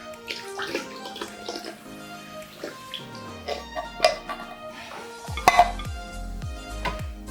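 Evaporated milk pours into a bowl of eggs for flan, a gurgling liquid stream with scattered clinks of utensils and containers, close and moderately loud.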